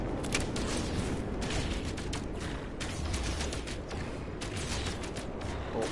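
Bolt caster pistol fire in No Man's Sky VR, a dense stream of rapid energy shots over busy game noise, with no pauses and no talking.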